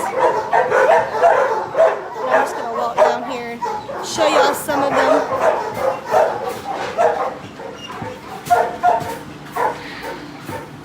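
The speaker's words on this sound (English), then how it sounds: "it's just endless rows of dogs" Many dogs bark, yip and whimper from rows of shelter kennels, a dense overlapping chorus close around while a person talks over the din.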